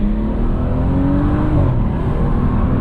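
Tuned 480 hp BMW F30 335i engine revving hard up through the gears, a loud, sustained rising drone with a pitch drop at a shift, heard from inside the car with no talk.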